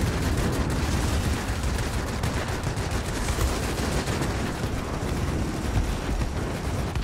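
Aircraft guns rattle in World of Warplanes as a plane is shot down. A loud, unbroken stream of rapid gunfire sits over a thick engine roar for the whole stretch, with no pause.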